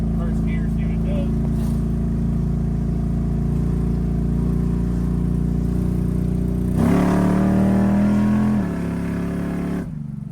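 An old engine with nitrous in a 40-plus-year-old car accelerates in first gear, a loud steady drone swelling into a brief louder rev near the end. Voices talk over it.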